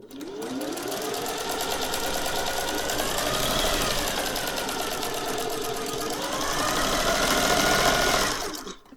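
A Singer 401A sewing machine stitches a scallop pattern, its needle clattering in a fast steady rhythm up close for several seconds, the pitch rising and falling slightly as the speed changes, with no voices.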